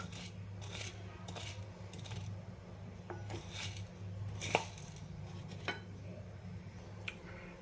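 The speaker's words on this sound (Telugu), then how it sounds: "మినపప్పు వేసుకోవాలి. చక్కగా వేయించుకోవాలి, నూనె లేకుండా." Urad dal dry-roasting in a pan with no oil, added after chana dal, gives scattered light rattles and small clicks of grains shifting against the metal over a steady low hum, with no talking.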